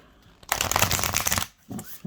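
A deck of matte-finish oracle cards riffled and shuffled up close, a dense papery flutter for about a second, then a short softer second shuffle.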